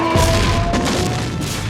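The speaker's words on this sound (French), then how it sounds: "Il explose de l'intérieur!" A pod explodes from the inside in a Star Wars film pod race, a loud rumbling boom that fills the whole moment with a dense low roar.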